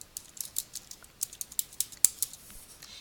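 Keys clicking on a computer keyboard, a quick irregular run of crisp, close taps of varying strength, the loudest near the middle, with no talking.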